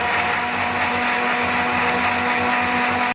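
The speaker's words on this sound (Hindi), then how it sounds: "और लहसुन के जवे डाल के इसे अच्छी तरह से ब्लेंड कर लेंगे" An electric blender whirs steadily at full power, blending yogurt and garlic cloves for a tandoori chicken marinade, with a loud, constant motor drone and no break.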